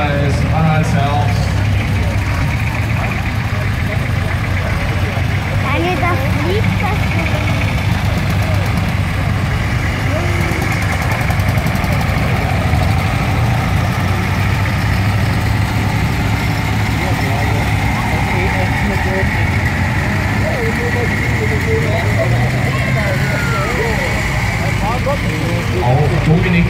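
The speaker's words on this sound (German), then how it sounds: "Trecker, GT4 im Himmelblau hier aus dem Nachbarlandkreis Anhaltsherbst." Sky-blue GT4 tractor engine at a tractor meet, a steady low diesel rumble with a throbbing idle that holds throughout, heard under crowd noise and a commentator talking.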